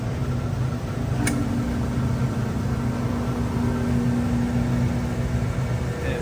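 Commercial ventilation fan motor running alone with a steady, even hum and broadband whir, a single faint tick near the start.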